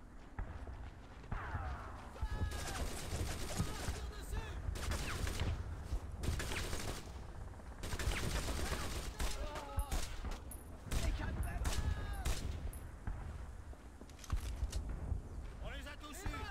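Battlefield gunfire in the PS2 video game Brothers in Arms, with repeated bursts and shots over a steady din of combat, loud throughout, while soldiers shout orders.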